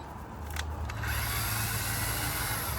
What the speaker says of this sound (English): you just tighten with the screw gun on this nice and snug